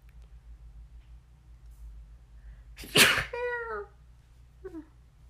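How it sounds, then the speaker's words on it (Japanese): A single sharp, close sneeze rises out of a quiet room with a low background hum, trailing off into a brief breathy tail and a soft follow-up sound. "くしゃみ可愛くなか"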